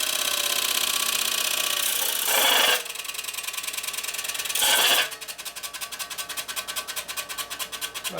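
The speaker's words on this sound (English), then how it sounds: "First thing I want to do is grind these surfaces here flat by just holding it in there" A fine 180 grit disc grinds flat surfaces on a 1972 Harley-Davidson XL Sportster 1000cc ironhead engine, giving a loud close whine with two harsh bursts of contact, then dropping to a pulsing rasp.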